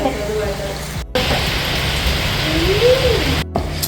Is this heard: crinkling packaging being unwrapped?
no